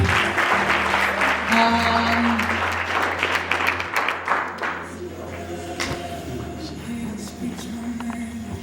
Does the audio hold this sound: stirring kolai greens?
no